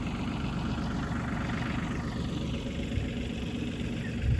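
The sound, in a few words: tractor engine running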